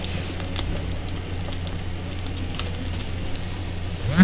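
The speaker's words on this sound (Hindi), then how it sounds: "इसमें शामिल करेंगे, इसको हम फ्राई कर लेंगे।" Carrots frying in oil for Kabuli pulao, a soft, steady crackling sizzle with small scattered pops, close and moderately quiet, no voices.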